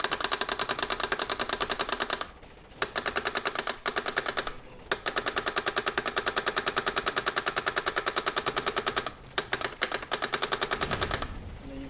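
Rapid bursts of video game machine-gun fire chatter alongside the sharp mechanical clacking of a solenoid recoil on a gun cart, long sustained volleys broken by brief pauses, loud and close.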